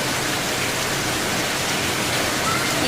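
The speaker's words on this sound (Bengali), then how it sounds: "প্রচুর পরিমাণে বৃষ্টি হচ্ছে" Heavy rain pouring outside, a dense, even wash of steady downpour noise with no pauses, close and uniform throughout the short stretch.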